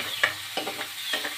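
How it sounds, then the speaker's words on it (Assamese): Magur catfish frying in a pan, a close steady sizzle broken by three or four soft scraping stir strokes, with no voices. "এই মাগুৰ মাছটো ইয়াতে দি দিছোঁ।"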